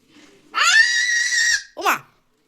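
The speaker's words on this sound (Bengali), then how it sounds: "ও মা চিৎকার করে কেন?" A child screams in a long, loud, sustained high wail of about a second, then gives a shorter rising cry after a brief gap, close to the listener with faint voices before it.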